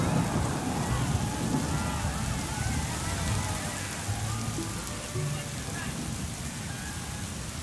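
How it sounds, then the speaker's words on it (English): Steady rain patters on a surface throughout, a dense broadband hiss with scattered drops, with a voice faintly present underneath. "it started to rain."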